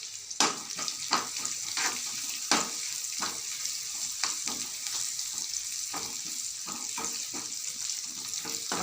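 Onions and potato with turmeric and asafoetida sauté in hot oil in a pan, giving a steady close sizzle with frequent scraping clicks from stirring and no talking.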